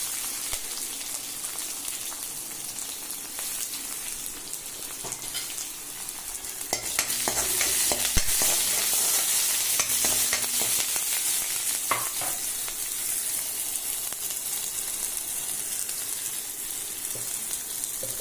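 Finely chopped onion fries in a pan still coated from roasting sambar powder, cooked for a sweet potato poriyal. A steady close sizzle runs throughout, with scraping stirs and a louder, busier crackle from partway through.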